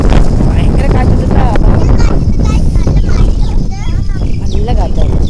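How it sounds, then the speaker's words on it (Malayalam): Strong wind at Meenkara dam buffets the microphone in a constant loud roar, with people talking and children's voices over it. "ഭയങ്കര കാറ്റുണ്ട്"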